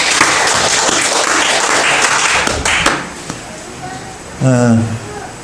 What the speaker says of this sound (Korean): 우리 박수로 한번 좀 아이들 좀 길을 좀 살려줍시다. 박수 한번 해봅시다.